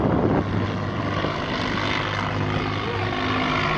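An airplane's engines roar loudly and steadily as it powers up during a hard go-around, a dense continuous rumble with no voices.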